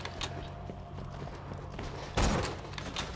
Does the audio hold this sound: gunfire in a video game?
yes